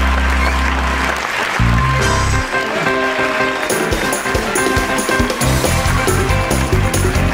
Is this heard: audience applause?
yes